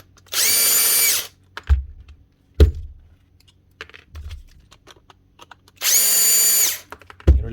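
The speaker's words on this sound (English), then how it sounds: "That is a strong motor for a very small drill." A small electric drill with a strong motor and a faulty switch whirs loudly in two short bursts, each about a second long, separated by clunks and handling noises.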